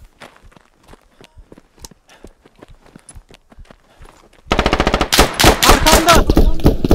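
Infantry combat in the video game Squad: soft footsteps patter for a few seconds, then loud automatic rifle fire breaks out in rapid, sustained bursts that fill the rest of the moment.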